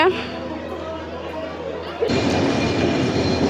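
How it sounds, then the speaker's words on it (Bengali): A train rumbles into Narail Railway Station in Bangladesh, its noise rising sharply partway through with a brief metallic screech, while people chatter nearby. "এই যে ট্রেন আসছে"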